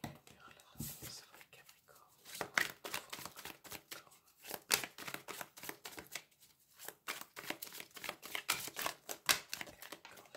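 Tarot cards are shuffled by hand with quick, crisp riffles and flicks, and several cards slip out and fall. The sound is close and fairly quiet, and a voice speaks softly underneath at times.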